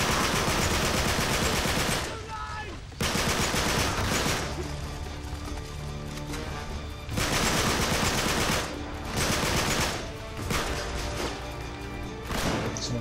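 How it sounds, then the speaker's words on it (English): Sustained automatic machine-pistol fire in the shooter game Uncharted 3, loud dense bursts with two brief pauses near the start and middle, continuous rattling volleys throughout. "See how much more useful automatic is than the semi. Machine pistol."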